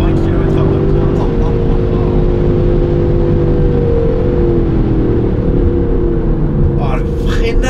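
A 2019 Aston Martin Vantage AMR with a manual gearbox accelerates hard in first gear, its engine a loud, close, continuous roar with rising tones. Other sounds come in briefly near the end.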